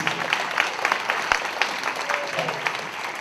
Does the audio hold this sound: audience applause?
yes